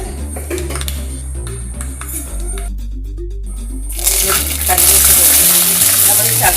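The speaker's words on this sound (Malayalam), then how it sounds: "ഒരു നുള്ള് ഉലുവ ഇട്ട് കൊടുത്ത് നമുക്ക് കുറച്ച് കടുക് ഇട്ട് പൊട്ടിക്കാം" Mustard seeds and a pinch of fenugreek hit hot oil in a pan and crackle and sizzle, the frying swelling louder partway through over low background hum.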